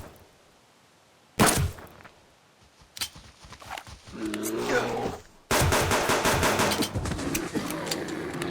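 Rifle shots ring out while hunting a level 2 bear in Subsistence, with a sharp loud crack followed later by a second burst of heavy gunfire and outdoor ambience, with some game noises between shots.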